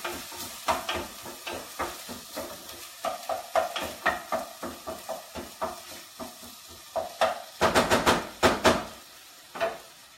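Rice stirred in a pot with a spoon, giving a steady series of scraping, scooping strokes with a faint sizzle underneath, close and clear, growing busier and louder near the end, with no talking.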